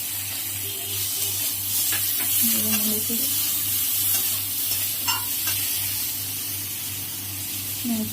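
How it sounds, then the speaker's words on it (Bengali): Spices with turmeric, salt and cumin paste sizzle in a pan while a spoon stirs and scrapes, a close, steady frying hiss with scattered knocks over a low hum; a voice is briefly heard. "একটু ভালোভাবে একটু কষিয়ে নিই।"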